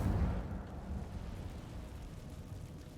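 A fire spell cast in the Hogwarts Legacy video game gives a loud rumbling whoosh that bursts at the start, then settles into a steady crackling roar that fades slightly but carries on throughout.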